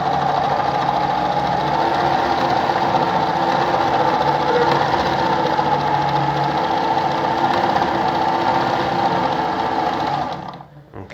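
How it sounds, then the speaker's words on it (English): A Pfaff 230 sewing machine runs fast at stitch setting 5, producing a loud, continuous close-up mechanical whir and rapid needle chatter that stops abruptly at the end. "I'll just turn this to, like, let's say number 5. It's just 5 here, and I'll sew quickly."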